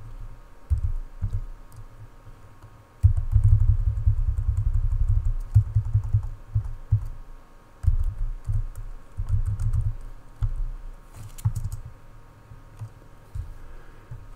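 Typing on a computer keyboard with an intermittent wireless connection, bursts of clacking keystrokes close by over a low rumbling thump, pausing and resuming, with no talk.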